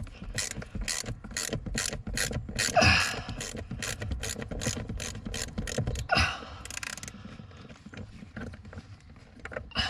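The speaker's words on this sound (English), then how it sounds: "T30 Torx bit on my 1/4 inch ratchet." Quarter-inch ratchet with a T30 Torx bit backing out screws on the worn seat base of a 2009 Mercedes-Benz W204 C200, a rapid close clicking of the pawl in repeated bursts with brief pauses.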